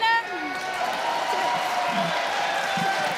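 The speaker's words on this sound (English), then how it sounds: "Hear from the crowd there, they enjoyed that." Spectators at a women's curling bronze-medal game at the 2015 European Championships cheer and applaud steadily in an indoor arena, loud and sustained, with a commentator's voice over the crowd.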